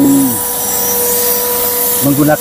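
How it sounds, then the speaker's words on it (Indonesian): A vacuum cleaner runs steadily inside a car while the interior is cleaned, a loud continuous whine with a high hum throughout, and a voice speaks briefly at the start and end. "vacuum cleaner ya teman-teman, biar hasilnya lebih bersih lah"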